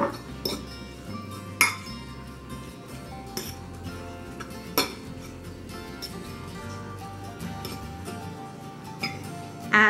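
Utensils clink and scrape against a casserole dish while tuna and green beans are stirred together, with irregular sharp knocks over a low background hum.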